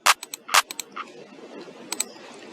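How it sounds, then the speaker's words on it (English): Dry sampled hand clap from a Portal drum kit with no effects: a few sharp, close, bright claps with short pauses between, followed by smaller ticks, alone with no voice. "So if we turn off all the effects, the clap would sound something like this."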